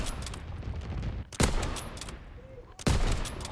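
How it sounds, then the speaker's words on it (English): Flak guns fire in a World War II video game: two sharp, loud bursts about a second and a half apart, each cutting through a steady rumbling battlefield background. "Flak guns firing."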